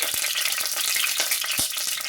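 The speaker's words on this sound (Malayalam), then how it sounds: "നമ്മുടെ നാടൻ വെളിച്ചെണ്ണ അല്പം അങ്ങോട്ട് ഒഴിച്ച് അതിലേക്ക് കടുക് അങ്ങോട്ട് ഇട്ട്" Mustard seeds hit hot coconut oil in a pan and crackle, a dense, steady sizzle broken by sharp, irregular pops, close and fairly loud.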